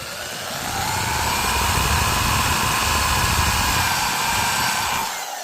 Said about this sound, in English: I'm going to drill that hole for the strap button right now.